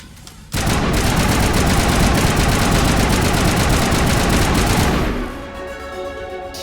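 Gunfire in Mass Effect: a sudden burst of rapid automatic shots erupts and rattles on for about four and a half seconds before cutting to quieter ambience.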